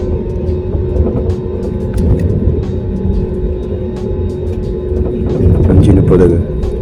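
An IndiGo Airbus A320 rolls onto the runway, heard from inside the cabin as a loud, constant low rumble and engine drone that swells slightly toward the end.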